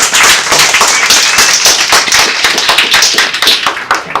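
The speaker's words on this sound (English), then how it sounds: "So another big round of applause for Isaac." An audience at a talk on graph analytics for anti-money laundering claps in dense, steady applause that sounds loud and close, with no one speaking over it.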